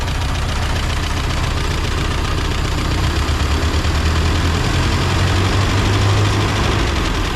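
An 80-year-old Willys Jeep CJ2a engine, restarted after years of sitting, idles loudly and close with a rough, slightly uneven chugging rhythm and a dip in speed partway through.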